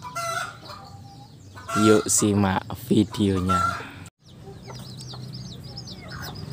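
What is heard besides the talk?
chicks and hen clucking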